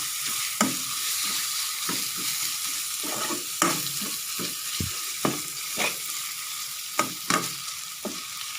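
Pork stir-fries in a pan for a spicy chilli curry paste dish, a steady bright sizzle broken by regular sharp scrapes and clacks of a spatula tossing the meat.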